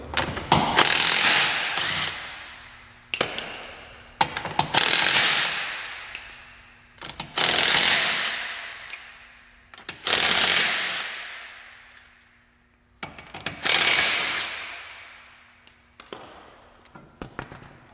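An AC Delco ARI2023 half-inch impact wrench removing wheel lug nuts: five loud, close bursts of rapid hammering, each decaying into a trailing whir as the nut spins free, separated by short gaps.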